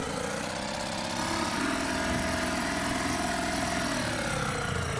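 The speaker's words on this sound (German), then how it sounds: "Das ist unendlich laut, dieses Boot." A loud, steady motorboat engine drone in the video game Martha Is Dead runs throughout, a buzzing engine hum that rises slightly partway through and stays constant with no talking.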